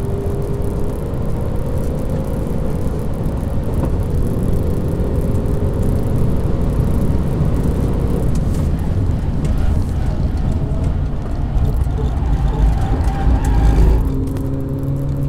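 A Hyundai Veloster N with stock shocks runs hard on a track, pushing toward about 204 km/h. Its engine drones as a steady, loud, close rumble throughout, with gear and load changes toward the end.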